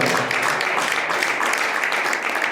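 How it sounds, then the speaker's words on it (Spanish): Church congregation applauding at a sermon in Spanish, a dense, steady wash of many hands clapping throughout, fairly close and even in level. "Denle un aplauso fuerte a Jesucristo"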